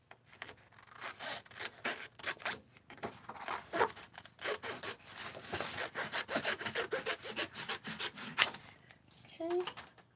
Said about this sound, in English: gotta cut another hinge here